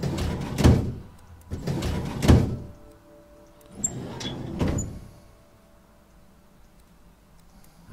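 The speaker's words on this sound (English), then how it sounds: "That's a drawer." A drawer opens in the video game The Tesla Effect: a few soft sliding thunks in quick succession, close and moderately loud, followed by a quiet tail with faint ticks.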